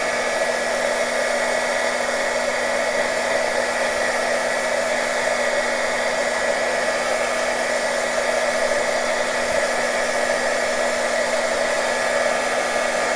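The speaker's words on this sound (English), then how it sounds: "we're going to take our heat gun and we're going to go ahead and heat spots" A heat gun blows a steady, even hiss with a constant motor hum, running without a break at close range while melting beeswax onto a junk journal cover.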